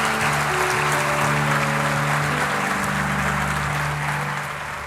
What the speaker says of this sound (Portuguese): Aplauda o Rei dos Reis